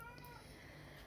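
Cat howling at a back door: a short strained meow with harmonic wavering, faint and somewhat distant against low background hum, no speech over it.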